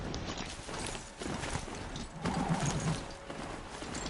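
A strider, the machine mount in Horizon Zero Dawn, gallops along with steady, fairly loud clip-clop hoofbeats that continue throughout over a busy game background, with no talk.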